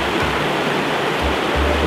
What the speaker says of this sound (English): looking at the flow running down there now